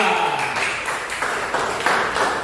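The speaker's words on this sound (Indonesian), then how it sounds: "Tepuk tangan untuk kelompok 2." A classroom of students applauds a group at the front, a loud, fairly dense patter of many hands clapping together in a few uneven waves.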